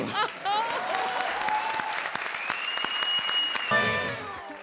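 Audience applause at a comedy show, a steady wash of clapping that holds loud and even throughout, with some higher whistles or cheers mixed in near the end.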